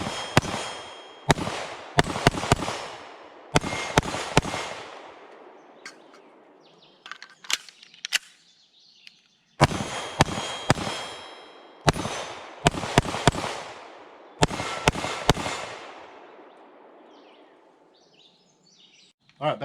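A PSA 5.7 Rock pistol firing 5.7x28mm rounds outdoors, several sharp loud shots in quick strings with echoing decays and pauses between groups, birds chirping faintly in the gaps.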